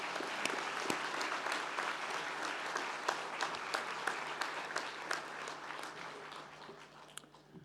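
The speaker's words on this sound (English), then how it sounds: "let's give them a big hand of applause." An audience at a university graduation ceremony claps steadily in sustained applause, a dense patter of many hands with a few sharper individual claps standing out.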